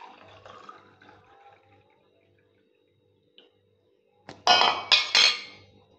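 A chilled drink is served into a glass: a faint pour and soft taps at first, then a short quiet stretch and three loud, close glassy clinks near the end.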